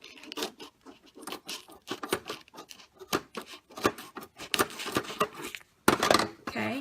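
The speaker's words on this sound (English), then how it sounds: "So I need my scissors because I'm going to trim off." Scissors trim adhesive vinyl in a quick run of close, crisp snips and crinkling cuts. The rhythm is irregular, with one brief pause near the end.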